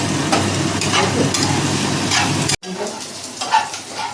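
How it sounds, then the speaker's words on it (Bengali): Onions frying in a pan for a village-style Bengali koi fish curry with water lily stems: a steady, close sizzle with stirring, briefly cut off midway before resuming, with faint voices in the background. "পেঁয়াজটা ভেজে নিচ্ছি"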